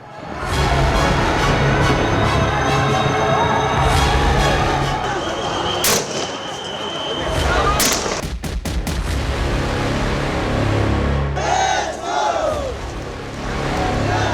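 A large, violent crowd of protesters in Nepal roars and shouts continuously at close range amid arson, with sharp bangs and cracks breaking through around the middle and later, loud throughout.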